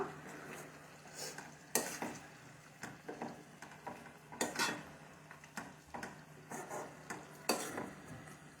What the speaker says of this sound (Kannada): ಇವಾಗ ಇದನ್ನು ಮಿಕ್ಸ್ ಮಾಡ್ಕೊಳ್ಳೋಣ